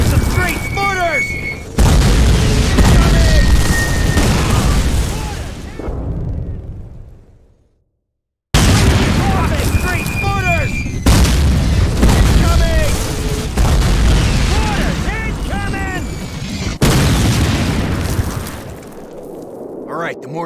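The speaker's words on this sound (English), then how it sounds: "Mortars!" Mortar shells bursting in a World War II street battle in Call of Duty, several loud, deep booms arriving in separate bursts with a brief silent gap between them, under shouted voices and background combat.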